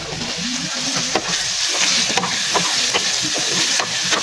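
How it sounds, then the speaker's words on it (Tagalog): Hot oil sizzles steadily while a utensil stirs and scrapes through frying garlic, with occasional clacks against the pan. "Prito-prito natin ito ng ganito para matanggal ang mantika."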